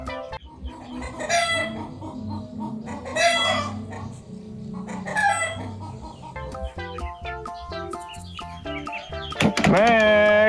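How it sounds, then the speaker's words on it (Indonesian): A rooster crows several times in a row, loud and close, with clucking fowl-like calls between, followed by a burst of bright music at the end. "wow, ternyata seekor ayam jago"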